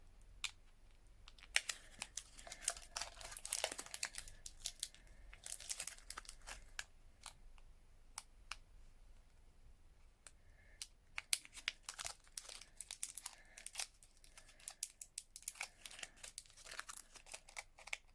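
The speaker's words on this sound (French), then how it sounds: "il faut que j'arrive à ouvrir le paquet" A plastic package is worked open in quiet, irregular bursts of crinkling and tearing, sharp crackles clustering in short flurries with brief pauses between, and no voices.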